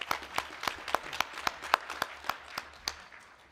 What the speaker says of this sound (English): let's give Beth a round of applause for her work.